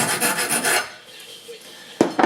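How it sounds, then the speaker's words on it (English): A metal file rasps across the sharp cut end of a bolt, a burst of rhythmic back-and-forth strokes, a brief lull, then a couple more loud scrapes close by. "File those sharp edges down."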